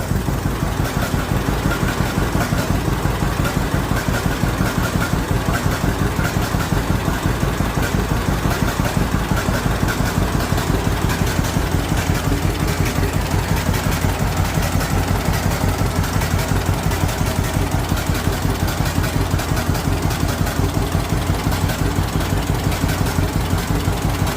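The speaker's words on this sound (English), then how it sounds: "Doesn't that sound amazing? The old John Deere pop." A John Deere Model A tractor idles nearby with a continuous, loud, uneven chugging and popping from its old engine, steady throughout with no talk.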